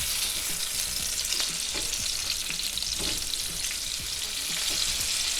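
Cherry tomatoes breaking down into a sauce in a hot pan, a steady crackling sizzle punctuated by soft scraping as they are stirred, close and continuous with no talk.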